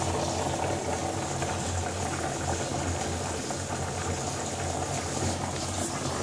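A jetted hydro tub's bubble machine churns steadily, a dense, even hiss of bubbling water and jets that stays constant and fairly quiet with no breaks.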